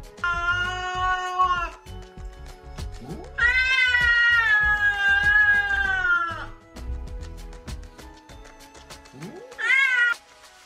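Angry cat giving out long, loud drawn-out meows and yowls, three separate cries with short pauses between them, close up and clear.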